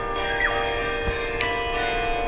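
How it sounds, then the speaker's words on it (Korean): A church bell rings with a sustained metallic hum and lingering overtones, a couple of faint strikes blending into a steady ringing tone over low background noise, no voices. "종소리"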